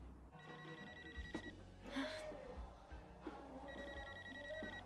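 A telephone ringing from inside a baby stroller on a London street, two bursts of a bright electronic ring separated by a pause, moderately quiet over street ambience.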